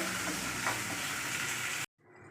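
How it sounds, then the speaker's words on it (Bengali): Onions frying in a pan until reddish, a close continuous sizzle with light stirring that breaks off abruptly near the end, leaving only faint background noise. "এটাকে লাল লাল করে পেঁয়াজটা ভেজে নিই"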